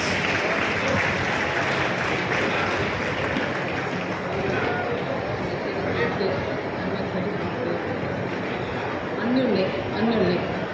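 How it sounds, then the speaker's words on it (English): Loud crowd applause from students at a girls' college anniversary celebration, with a continuous wash of clapping mixed with chatter and voices in the background throughout. "A big round of applause, girls."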